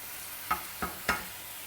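Chopped brinjal being stirred with masala in a cooking pan: three quick scraping spatula strokes with soft clinks, close and distinct over a faint low sizzle, no talking.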